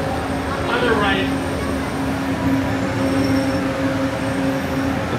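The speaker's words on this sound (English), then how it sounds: "I'll pick this up in a second when we get off this monorail" Steady rumble of a Disneyland monorail in motion, with a constant hum and a brief higher whine early on, heard from inside the car with faint voices in the background.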